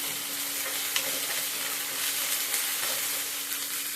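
Curry leaves frying in hot oil in a home kitchen pan, with ginger paste already in, make a continuous close sizzle and crackle, with a few light stirring knocks over a steady hum.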